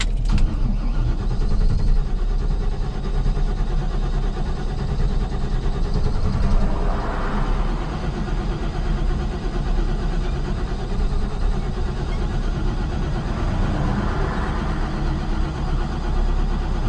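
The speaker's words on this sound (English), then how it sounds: "I think my truck's running out of gas." Engine of an LS-swapped GMC K2500 truck running as the truck runs out of gas, a steady low rumble throughout with two brief swells in tone, heard from inside the cab.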